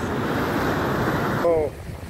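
Small ocean waves at a beach wash in as a steady, close rushing surge with some wind noise, then drop away sharply near the end as a short tonal sound cuts in.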